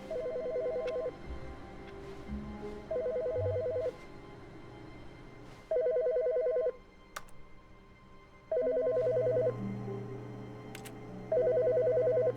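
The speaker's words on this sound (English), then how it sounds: "Is there a phone I can pick up?" In The Stanley Parable Ultra Deluxe, an office telephone rings in repeated electronic bursts, five rings with regular pauses between them. The ringing is clear and fairly loud, with faint ambient game sound and no talking.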